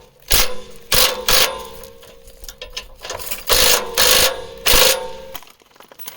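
A ratchet on a long extension tightens Barricade roof rack bolts on a Jeep JK, with a series of loud, close clicking bursts in uneven groups separated by short pauses.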